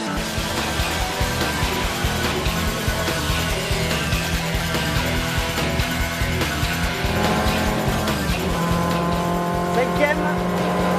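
A Renault 5 Alpine rally car engine roars continuously at speed, revving up and down through gear changes on track, with someone talking over it from inside the car.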